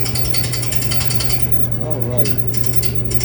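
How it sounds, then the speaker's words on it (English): A Samsung DV40 clothes dryer runs with a steady, loud low hum and rattling mechanical noise, and a brief rising squeal shows up near the middle; a voice speaks briefly over it. "We have a Samsung dryer makes squeaking noise."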